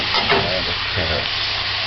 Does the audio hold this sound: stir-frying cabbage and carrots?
yes